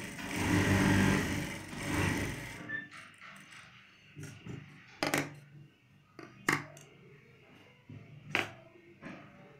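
An electric sewing machine runs in a steady loud burst while stitching the belt section of a gents' trousers, then stops, leaving a few sharp clicks and taps of handling the cloth and machine.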